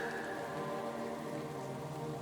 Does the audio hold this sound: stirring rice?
no